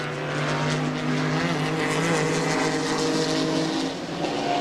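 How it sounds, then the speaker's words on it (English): Sports prototype race cars pass at the 1996 Rolex 24 at Daytona, a sustained loud engine drone with shifting tones as the cars go by, steady and continuous with no talk. "Now here are the 7th and 8th place cars overall and in World Sports Car."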